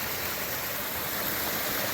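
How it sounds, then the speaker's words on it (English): A mountain stream north of Butler Shelter on the Long Trail runs high, its steady close rushing and splashing water filling the whole two seconds with no other sound. "This is the stream just north of Butler Shelter."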